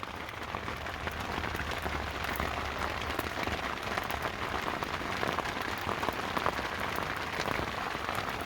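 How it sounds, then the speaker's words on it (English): Steady rain patters on a Yakima tent, a dense, even drumming of countless drops with no voices. "I don't know if you can hear that, but it's raining."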